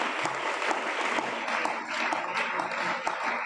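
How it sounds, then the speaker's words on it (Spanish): A church congregation applauds steadily during a sermon, a dense wash of many hands clapping at moderate distance with no voices over it. "Denle ese aplauso a él esta noche"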